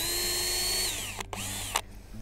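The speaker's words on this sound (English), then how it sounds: "We'll pre-drill holes on the front here and attach one to each corner." A power drill whines steadily while pre-drilling holes in a wooden loon nesting raft, then winds down and stops with a couple of brief restarts, close and fairly loud.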